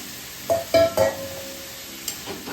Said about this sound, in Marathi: आता ही आपण उकळी घेतलेले मटर टाकू